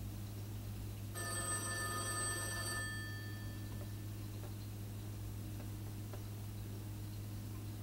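A telephone rings once in a quiet room, a single bright electronic tone lasting under two seconds, faint and steady over a constant low hum, followed by a few soft ticks.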